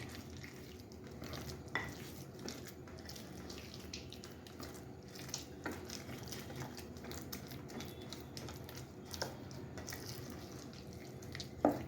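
Wet mixing of idli batter with water in a bowl, with soft sloshing and scraping that continues steadily, punctuated by occasional light clinks, at close range with no talking.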